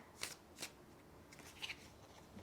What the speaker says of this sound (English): If you like to see me shuffling, my shuffling is a little bit slow.